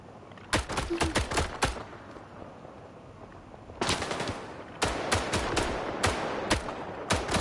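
Rapid bursts of automatic gunfire from S.T.A.L.K.E.R. 2 on PS5, several sharp rattling volleys separated by short pauses, loud and close.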